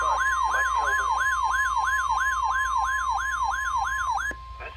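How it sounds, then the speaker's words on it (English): A NOAA weather radio emergency alert test signal from the National Weather Service, a loud, steady wailing tone that sweeps up and down in a fast regular cycle, about a dozen repeats, with no voices, cutting off abruptly near the end. "The preceding signal was a test of the NOAA radio."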